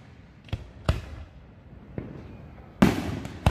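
Lake association fireworks launched from a beach by a professional company, a few sharp booms spaced apart with one louder crackling burst near the end, echoing outdoors with no talking.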